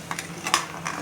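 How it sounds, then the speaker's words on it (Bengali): Spice masala being stirred in a pan while cooking palak paneer, a few soft scraping strokes with a light sizzle underneath, close and fairly quiet. "ভালো করে নাড়তে হবে, নেড়ে নেড়ে নেড়ে"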